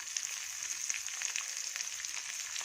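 Green chillies frying in hot oil with mustard seeds, chana dal and urad dal, a steady high, fine sizzle with scattered crackles, continuous and close.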